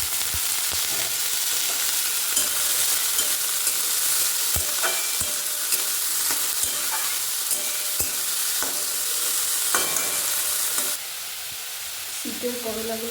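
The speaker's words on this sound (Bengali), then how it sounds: "আর আজকে আমি আলু করলা ভাজছি অনেকদিন পর।" Potatoes and bitter gourd frying in a home kitchen pan, a loud, steady sizzle and hiss with repeated stirring clicks and scrapes that runs for most of the stretch before dropping to a quieter tail.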